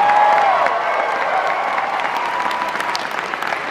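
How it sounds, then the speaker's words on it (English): Loud, dense applause with some cheering from a crowd at the FanX 2021 cosplay contest, thanking the volunteers; steady clapping from start to finish, easing slightly after the first second. "Please, round of applause for all the awesome volunteers that helped make this show."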